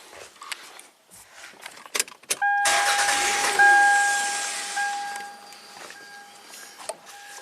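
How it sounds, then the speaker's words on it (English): A 2000 Toyota Camry with a surging, stalling fault cranks and starts: keys rattle, then the engine catches with a loud burst that settles into a steady idle while a dash chime tone sounds, fairly close. "let's fire up the car"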